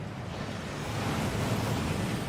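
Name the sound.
waterfall in Hogwarts Legacy video game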